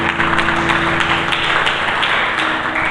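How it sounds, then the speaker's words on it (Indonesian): Hearty applause fills a church during a Sunday service, many people clapping together in a loud, even roar, with a faint sustained musical tone humming underneath. "Berikan tepuk tangan yang meriah Pak Selamat."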